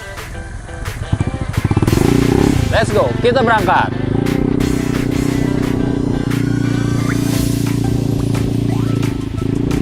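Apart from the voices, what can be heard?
Honda Beat Hybrid scooter running on its petrol engine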